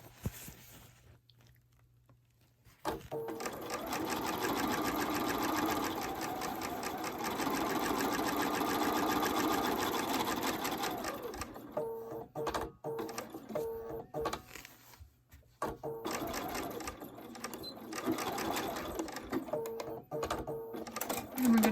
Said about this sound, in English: now that we've sewn around the perimeter